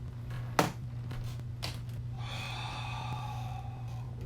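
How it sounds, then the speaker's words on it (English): Someone holding a stretch breathes deeply and audibly. One sharp, forceful inhale comes early, followed by slower, softer breaths close by, with no speech. "Breathe through this for about 3 breaths."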